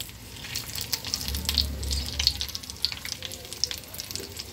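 A laddu mixture cooks in ghee in a pan, giving a steady, soft sizzle and crackle with light stirring scrapes throughout, at close range.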